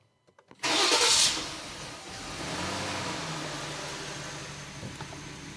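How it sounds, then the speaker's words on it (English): A Jeep/Dodge/Chrysler 3.6 engine with a hard-start fault cranks briefly with a loud burst, then catches and settles into a rough, uneven idle that keeps running steadily. "Let's go ahead and crank. Alright, so it's going back to a little bit hard start, rough start."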